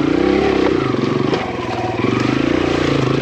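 A Kawasaki KLX140RF dirt bike engine buzzes steadily and close while riding a soft dirt trail, its throaty single-cylinder pulse dipping briefly and then picking back up.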